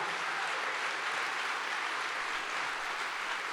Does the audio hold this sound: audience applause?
yes